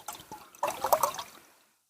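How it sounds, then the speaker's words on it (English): Water poured from a bottle into a cooking pot, a short trickling pour that swells briefly, then tapers off into silence. "And we'll fill up the water."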